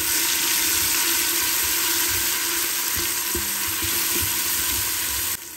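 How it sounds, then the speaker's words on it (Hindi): Garlic and chillies fry in hot oil, a loud continuous sizzle with faint stirring knocks underneath, close by, cutting off abruptly at the end. "अब हम इसे भूनेंगे"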